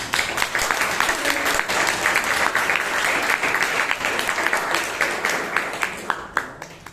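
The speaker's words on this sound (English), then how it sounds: "A big round of applause for Toastmaster Henna." Strong round of applause for a Toastmaster at a Bangalore Toastmasters meeting, many hands clapping in a steady, even patter for the whole stretch.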